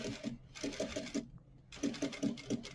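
Sewing machine stitching a leather vinyl seam, running in two quick bursts of rapid rhythmic needle clatter separated by a brief pause, close and fairly quiet.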